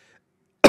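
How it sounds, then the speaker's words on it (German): A single short, loud cough bursts out close by at the very end, after near silence, in the game Fallout 1. "Oh, ich muss husten."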